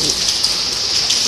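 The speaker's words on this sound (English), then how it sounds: "so I'm not surprised to see rain here" Steady rain falls in Malaysia, a continuous close hiss of drops hitting surfaces with no break through the short stretch.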